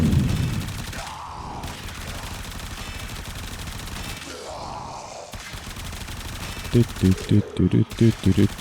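Rapid gunfire from the Puncture weapon in a video game, a dense stream of shots rattling over steady game noise, with a tight burst of loud bangs near the end.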